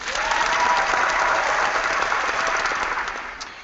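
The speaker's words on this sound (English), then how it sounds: "Let me cue the applause." Canned applause sound effect played at the start of a whiskey, wine and moonshine podcast episode: dense, steady crowd clapping at full loudness, easing slightly before the end, with no talking.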